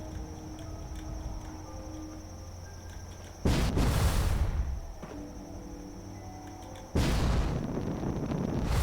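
Two frag grenade explosions in Fallout 4, each a sudden loud burst followed by rumbling decay, a few seconds apart, over a faint steady ambient hum.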